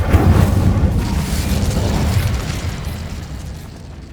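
A loud whooshing burst of fire from the Incendio spell in the video game Hogwarts Legacy, a strong roaring flare at the start that rumbles and gradually fades over several seconds.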